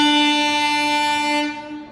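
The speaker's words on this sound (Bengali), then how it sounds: "এই এখন মালগাড়ি যাচ্ছে এখন" A passing freight train's horn blares loud and sustained close by, then fades and cuts off near the end.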